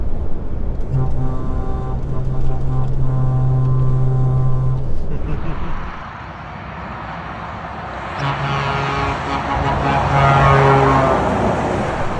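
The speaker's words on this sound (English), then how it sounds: "we'll give him the old biggin on the air horns as we do" Loud, deep truck air horn blasts ring out over a rumbling engine, two long sustained honks separated by a few seconds of road noise.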